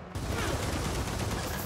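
Dense, continuous automatic gunfire from the video game Gears of War 4, loud and close, a sustained burst filling the short moment with no talk over it.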